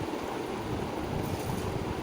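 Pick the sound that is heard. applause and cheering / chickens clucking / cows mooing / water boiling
water boiling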